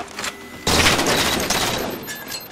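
Gunfire from the video game Halo 4 breaks out as a sudden, loud burst of rapid shots that keeps up for about two seconds after a brief quieter lead-in, with no talking.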